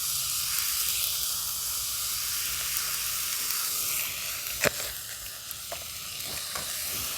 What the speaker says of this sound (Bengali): ভালো করে সবজিগুলোর সঙ্গে নুন হলুদটা ভালো করে মিশিয়ে নিচ্ছি।